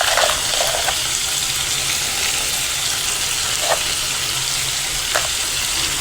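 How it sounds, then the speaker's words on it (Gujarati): Mung beans being stirred and mixed in a pot with turmeric and salt, a steady loud sizzling bubble with a few soft scraping strokes of the spoon, heard alone without talk. "તેને હલાવીને મિક્સ કરી લઈશું સારી રીતે."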